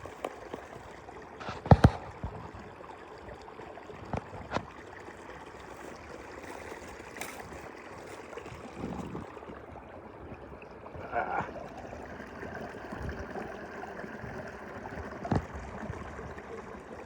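Small forest stream flowing near a woodland shelter, a soft continuous trickle and gurgle with a few sharp knocks and rustles close by, no talking.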